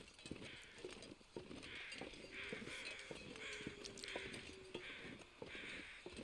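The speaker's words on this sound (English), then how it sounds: "I also hear crows." Crows in the video game The Long Dark give repeated harsh caws at a steady, spaced rhythm over a snowy wilderness ambience. The calls sound faint and distant, and soft thumping footsteps run beneath them.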